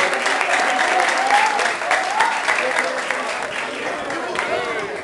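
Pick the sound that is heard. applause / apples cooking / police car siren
applause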